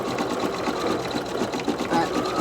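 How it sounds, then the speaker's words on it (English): Brother Innov'is 1600E embroidery machine stitching an appliqué design, a steady, fast mechanical whir with dense rapid needle clatter running continuously at close range, with faint talk underneath. "doing applique on your machine"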